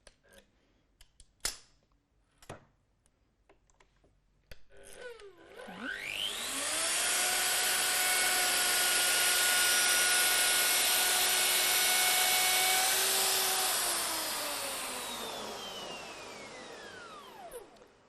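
A Festool OF 2200 router with dust extraction spins up to maximum speed after a few clicks and knocks. It holds a loud, steady high whine for several seconds, then begins to wind down.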